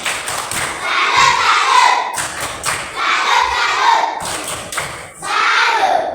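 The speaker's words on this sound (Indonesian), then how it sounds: "Tepuk salut" Schoolchildren in a classroom perform a patterned clapping routine, loud bursts of rhythmic claps in three phrases separated by brief pauses, with some voices chanting along.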